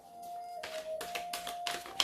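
Large angel oracle cards being shuffled by hand, giving a few brisk, papery riffling bursts over about two seconds, close and fairly quiet, with a steady faint electronic hum underneath.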